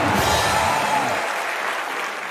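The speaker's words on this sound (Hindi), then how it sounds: "जोरदार ताली ठोको यार" A studio comedy audience bursts into strong applause, dense clapping that starts full and gradually thins and softens toward the end.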